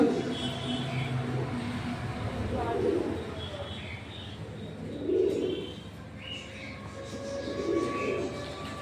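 Red nun pigeons at a pet shop coo softly in low, rounded murmurs that repeat every few seconds over a steady background hum and a faint voice.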